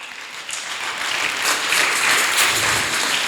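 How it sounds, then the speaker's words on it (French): Applause breaks out from a church congregation at a Sunday service, a steady mass of clapping that swells slightly louder toward the end, with no speech over it. "On acclame."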